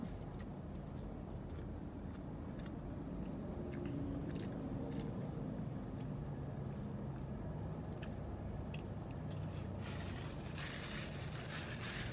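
Close, soft chewing and biting of a McDonald's double cheeseburger with no pickles, a steady stream of quiet mouth sounds and small crunches over a low background hum, with no talking.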